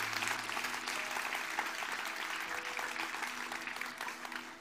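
A church congregation at a Buenos Aires service applauds in a steady, fairly faint wash of clapping, with a soft musical tone sustained underneath.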